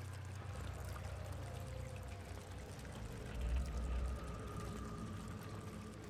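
Steady flowing water from Amnesia: The Dark Descent, a continuous pouring wash with low rumbling beneath, holding even throughout and swelling slightly midway, with no voices.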